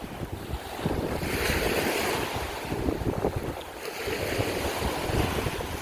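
Waves breaking along a Gulf of Mexico shore, a continuous wash of surf with swelling roars, mixed with heavy wind buffeting the microphone, and no voices.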